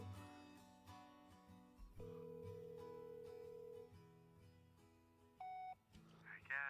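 A telephone ringing and electronic beeps recorded for an album track, heard as sustained tonal ring bursts followed by a short high beep, sitting within musical tones and fairly quiet overall.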